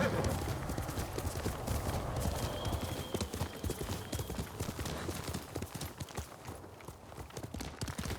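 Steady clip-clop of a horse's hooves at a running pace in the video game Ghost of Tsushima, continuous and fairly loud, with a faint whinny partway through.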